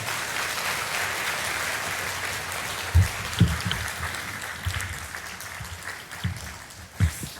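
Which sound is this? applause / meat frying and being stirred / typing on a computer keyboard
applause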